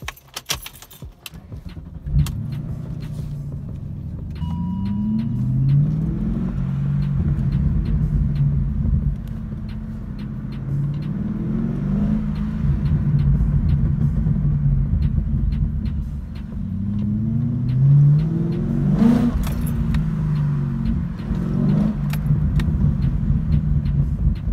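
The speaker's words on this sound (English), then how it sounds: "start this V8 up" Keys jangle, then the V8 engine of a 1999 BMW M Roadster starts and idles with a deep rumble, revving up several times in repeated surges throughout.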